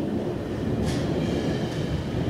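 A GO Transit train hauled by an MP40 locomotive passes close by as westbound and eastbound trains meet, giving a loud, steady rail rumble with wheel noise throughout and a brief brighter hiss partway through.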